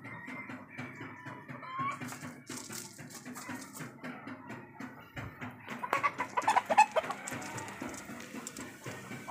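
A rooster on a farm gives soft, repeated clucks and low calls, close and fairly quiet, with other bird sounds and a brief louder flurry partway through.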